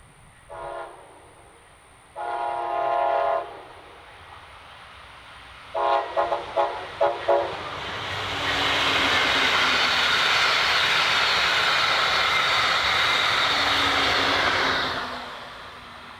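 A Brightline train in its Bright Purple wrap passes northbound in Cocoa, Florida: a few horn blasts, then a loud, rising roar and wheel rumble building over several seconds and holding steady before easing off.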